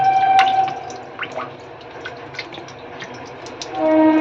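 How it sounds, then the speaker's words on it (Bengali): Water trickles slowly from a tap in soft, irregular drips and small splashes, faint and close, with a few brief higher tones at the start and end and no speech. "এই যে জলটা পড়ছে দেখো কত আস্তে আস্তে জল পড়ছে"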